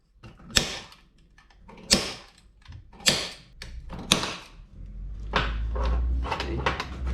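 Rivets being pushed out of a 1951 Chevy Fleetline gauge, a series of sharp metallic clicks and creaky thunks at irregular intervals, close up, with scraping and handling noise between them and no talking.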